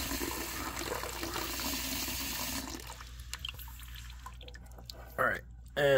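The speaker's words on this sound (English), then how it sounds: "I'm filling this up with water." Tap water runs steadily into a glass lab beaker for a few seconds, then cuts off, leaving quiet clinks and a couple of brief splashy handling noises near the end.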